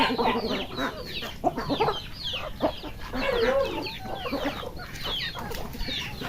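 A flock of chickens clucks continuously nearby, overlapping calls forming a steady farmyard chatter with occasional sharper squawks.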